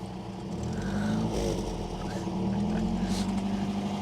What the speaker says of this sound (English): rev the engine for me, my dear.